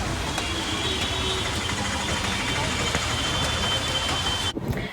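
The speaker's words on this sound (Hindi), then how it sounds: "आप सब देख सकते हो कितना ज़्यादा बारिश हो रहा है" Heavy rain pours down around a moving e-rickshaw, a dense, loud, continuous roar mixed with vehicle rumble that ends abruptly.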